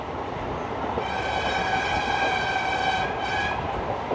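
A Jan Shatabdi Express train approaches with a steady loud rumble of wheels and a sustained horn blaring over it, heard near and continuous.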